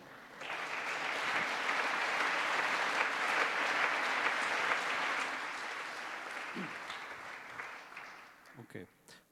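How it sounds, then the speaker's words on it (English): Sustained applause from a conference audience welcoming a keynote speaker at ISMIR 2018, a dense steady wash of clapping that swells, holds, then thins out and fades near the end. "we can give uh, Patrick Flandrin a round of applause"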